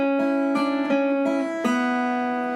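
Guitar picking a quick connecting lick built on open strings, banjo-like, alternating fretted B-string notes against the open E; bright, close, evenly rhythmic plucked notes ringing over one another, alone with no talk.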